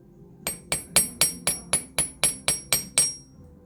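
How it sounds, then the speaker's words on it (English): A steady run of ten crisp strikes of a jewelry hammer's slightly concave side on pure silver, close and regular, with short bright rings between blows. "And hammer it as much as we want."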